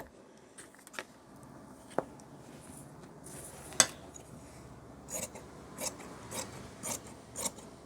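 Scissors cut pant fabric in a tailoring workspace, giving soft rasping snips at a close distance, with sharper strokes spaced fairly regularly in the second half.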